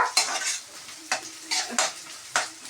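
Garlic chutney is stirred in a pan with a metal spoon, scraping strokes coming in short irregular bursts against a faint background sizzle, close and fairly quiet.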